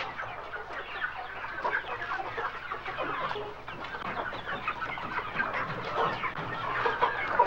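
Chickens in a film scene cluck and murmur continuously around a man, a dense close flock chatter with overlapping soft calls and no talk.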